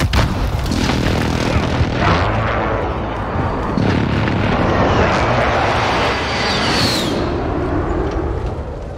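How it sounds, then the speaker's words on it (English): A precision airstrike in Modern Warfare multiplayer: the loud, sustained roar of jets overhead with heavy rumbling explosions booming through it, dense and continuous from start to finish. "Be advised, friendly precision airstrike inbound"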